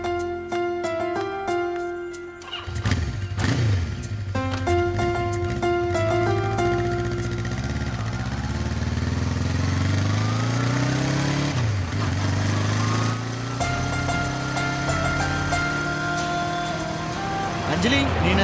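A motorcycle engine starts up, then revs and carries on as the bike rides off, the engine hum rising and falling steadily while people talk over it.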